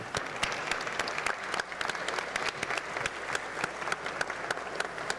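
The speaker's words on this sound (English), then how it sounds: "they have deserved another applause" Audience applause for the panelists at a plenary session on further and higher education, a steady, even clapping from a seated crowd that continues throughout at moderate loudness.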